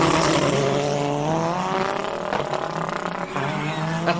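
A hillclimb race car accelerates hard at the Simola Hillclimb, its engine note climbing steadily through the gears in a loud, continuous roar with some tire noise.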